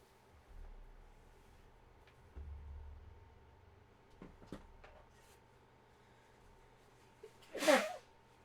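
A single short, sharp sneeze bursts out near the end, following quiet background rumble and a few faint knocks.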